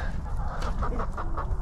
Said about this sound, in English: that is a speckled Sussex, and that is one of our favorite hens